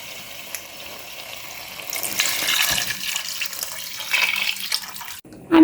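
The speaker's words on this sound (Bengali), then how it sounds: "পানি, ফুটন্ত গরম পানি দিয়ে দিচ্ছি।" Boiling hot water is poured into beef haleem cooking in a pot, a rushing watery pour that swells midway and then stops, with a faint sizzle underneath.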